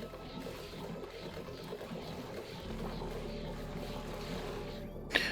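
Flowing water in the colony-building game Oxygen Not Included: a faint, continuous trickling wash that stays even throughout, with a brief click near the end.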